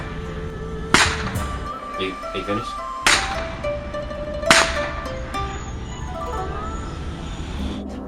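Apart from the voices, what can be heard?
recreational whip cracking to spin tops in China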